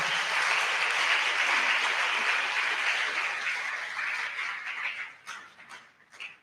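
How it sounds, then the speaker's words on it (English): Sustained applause from an audience for performers at an inaugural academic lecture, a dense steady clapping that carries for about five seconds before thinning out into scattered claps and fading. "Can we give them another round of applause, please?"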